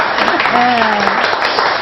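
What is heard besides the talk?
studio audience applause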